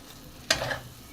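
Prawns in masala are stirred in a pan of oil for a malai curry, one sharp scrape and sizzle bursting up briefly and fading, with a faint hiss before and after.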